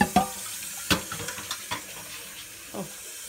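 Kitchen tap water splashing into a small cooking pot as it is rinsed, with sharp intermittent splashes and clanks over a quiet flow, fairly close and without talk.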